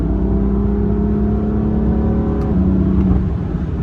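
A car engine drones steadily with a deep exhaust note, its pitch shifting slightly as it revs, sounding close and loud with no voices.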